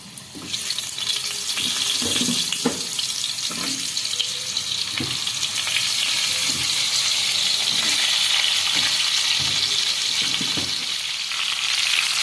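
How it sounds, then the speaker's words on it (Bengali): Oil sizzles loudly and steadily as potatoes fry in oil left from frying fish, with the clack of a spatula stirring the pan every second or so. "এটা এবার নাড়াচাড়া করে আলুটা এটাকে ভেজে নেবো"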